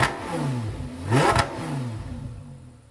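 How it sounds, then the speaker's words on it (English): An Audi R8 with an aftermarket exhaust, bought damaged from a salvage auction, idles and then revs sharply once, the engine note climbing and falling with a brief exhaust crackle before settling back to a steady rumble. "I really wasn't expecting it to fire up quite that quickly, but it sounds completely fine."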